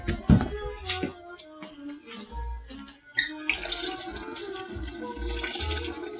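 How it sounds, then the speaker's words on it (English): Beer pours into a seafood boil pot holding raw jumbo shrimp and corn, a splashing, gurgling stream after a few clinks and knocks, running steadily for several seconds close up. "You pour some of this beer in there"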